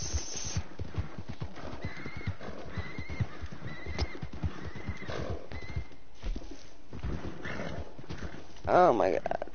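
A horse in the Western video game Red Dead Redemption gives a clear whinny near the end, after steady clip-clop hoofbeats heard throughout, with people talking over most of it.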